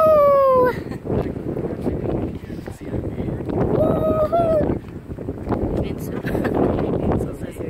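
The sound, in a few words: strong wind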